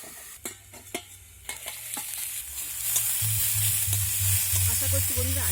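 Tender amaranth greens are stirred in a hot pan without water, a spatula scraping and clinking close by as a steady sizzle builds louder and fills the last few seconds.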